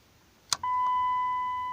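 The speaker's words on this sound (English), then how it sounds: "You can hear the beeping." A Chrysler 300C with the 5.7 L Hemi, ignition switched on, gives a short click and then a single steady electronic warning tone that holds on, close and clear in a quiet cabin.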